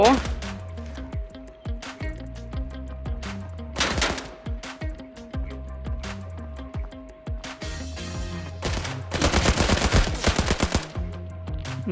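Rapid bursts of gunfire in the video game Arena Breakout, some single shots and some automatic volleys, repeating over a steady synthetic hum, with the loudest burst near the end.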